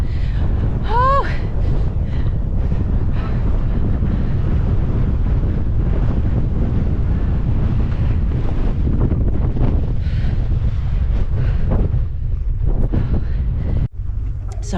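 Strong wind batters the microphone on the clifftop at Beachy Head, a loud continuous low rumble and buffeting throughout. A short voice-like cry rises near the start.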